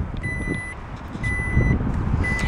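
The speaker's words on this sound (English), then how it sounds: "So just go ahead and press the button over here to close up your hatch." Three bursts of steady high beeping over a low rumbling background as the power liftgate of a 2016 Jeep Grand Cherokee Limited closes, each tone held about half a second with gaps between.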